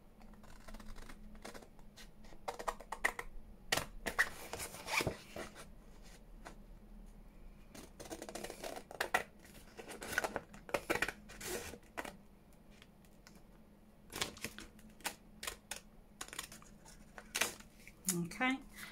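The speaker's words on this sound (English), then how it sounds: "That's probably a bit better with my big choppy scissors." Large scissors snip through acetate sheet during papercraft work, a series of sharp close cutting clicks and crisp rustles at irregular intervals, with someone talking softly in between.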